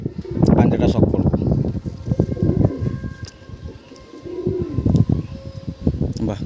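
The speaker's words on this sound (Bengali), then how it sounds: "হ্যাঁ, অন্ধ্র পায়রা" Andhra pigeons coo repeatedly close by in soft, rolling bursts, mixed with people talking nearby.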